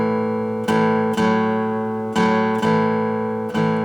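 Acoustic guitar strummed in a bluesy loping long-short swing rhythm, several chords ringing with sharp attacks, played alone and close.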